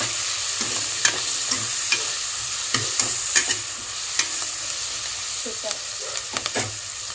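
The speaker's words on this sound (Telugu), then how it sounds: "అలాగే ఇందులోకి కరివేపాకు" Onions and curry leaves frying in a pan for a drumstick gravy, a steady sizzle with frequent spatula scrapes and taps close by.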